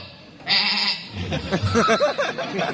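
A goat bleats several times in quick, wavering cries, loud and close, with voices talking around it.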